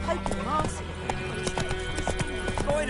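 Roach the horse's hooves clip-clop at a steady trot in The Witcher 3, rhythmic and close, with a brief whinny and someone talking over the footsteps.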